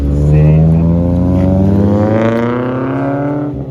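A Nissan 350Z roadster with a wide stainless dual exhaust revs loudly up close, its engine note climbing in a single strong sweep and then easing off.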